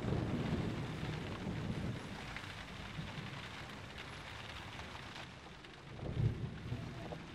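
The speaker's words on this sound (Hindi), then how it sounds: "अचानक से इतनी बारिश पता नहीं कहाँ से आ गई" Sudden heavy rain falls as a steady, loud broadband wash, with a deep rumble of thunder swelling briefly near the end.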